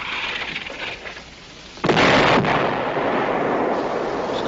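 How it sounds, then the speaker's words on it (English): Wartime artillery searching fire lands nearby, a heavy shell burst erupting out of a constant rumbling din, followed by a sustained roar with no voices. "Sounds like searching fire."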